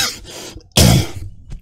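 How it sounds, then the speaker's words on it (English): A rough, throaty clearing sound, loud and close, in a couple of raspy bursts with brief pauses between. "I'm sorry for clearing my throat"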